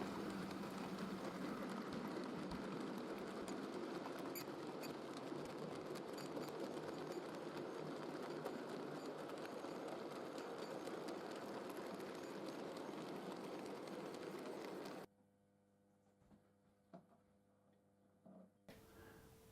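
A steady mechanical rumble with fine rhythmic clicking runs for about fifteen seconds, then cuts to near quiet with a few faint ticks.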